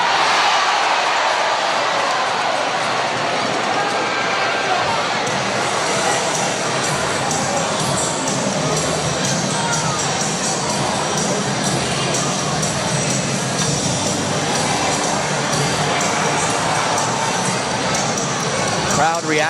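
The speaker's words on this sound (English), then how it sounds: "Crowd reacting to Mundinger giving Jacob Kelly a shove out of the crease." A hockey arena crowd roars and jeers as a goalie shoves an opposing player out of the crease, a dense and loud wash of voices that carries on steadily throughout.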